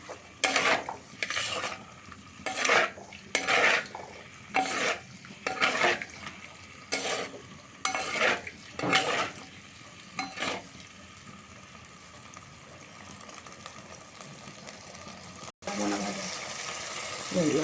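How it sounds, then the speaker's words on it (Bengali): Paneer fries in a pan while a spatula scrapes and stirs in repeated rhythmic strokes over a soft sizzle, then the stirring stops and only the frying continues. "এত দূর পর্যন্ত এটা ভাজা হবে"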